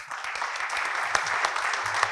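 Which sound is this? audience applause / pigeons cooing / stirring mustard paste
audience applause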